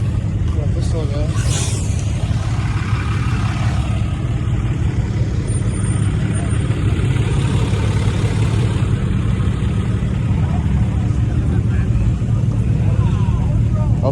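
LT1-engined Supra idling at a modded car show in Detroit, a steady low rumble running beneath constant crowd noise and nearby chatter.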